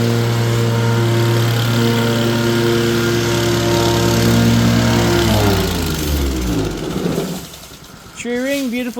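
A compactor packs down base material for an artificial turf installation, its engine droning loud and steady before slowing and winding down, with a voice briefly heard near the end.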